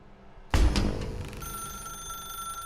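A telephone in the video game The Stanley Parable Ultra Deluxe bursts into a single loud ring after a moment of quiet, its bright metallic tone lingering and ringing on.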